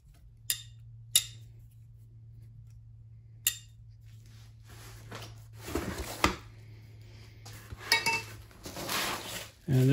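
Small metal tongs clicking and clinking near a portable propane forge, a few sharp isolated taps followed by a denser stretch of metallic rattling and handling over a low steady hum.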